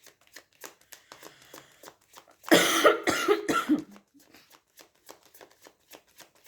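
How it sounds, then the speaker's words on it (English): A single burst of coughing in the middle, close and fairly loud, amid quiet shuffling and tapping sounds. "I'm so sorry for coughing, but I can't hold it back."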